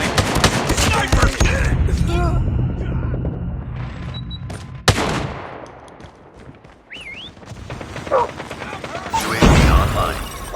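Machine gun fire in the online shooter map Shipment during a crackdown match, loud close bursts of rapid gunfire and booms mixed with game sound effects, announcer callouts and other voices.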